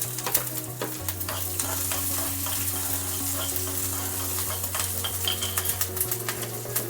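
Peanuts, cumin seeds, coriander seeds and green chilies fry and crackle in a pan over a medium flame, a steady close sizzle broken by frequent stirring scrapes, under a continuous low hum, with no one talking.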